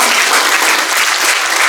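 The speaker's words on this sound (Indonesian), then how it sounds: "Tepuk tangan dulu bagi kita." An audience at a graduation ceremony in Kupang, Nusa Tenggara Timur, breaks into loud, dense applause that holds steady through the whole brief moment.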